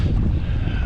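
Gusty wind buffets the microphone on open water from a kayak, a steady loud low rumble with no speech over it.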